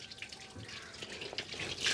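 Muddy water draining out through a hose from a water tank being cleaned: a soft, continuous splashing and gurgling trickle, quiet and close, with no talk.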